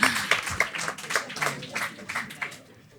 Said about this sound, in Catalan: Un altre aplaudiment.